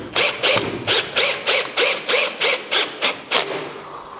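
Long screws driven into wood with a driver for a gaming table river ford, a rapid series of about ten evenly spaced ratcheting, grinding bursts, close and loud, with no talk over them.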